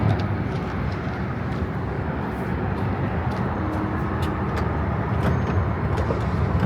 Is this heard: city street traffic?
yes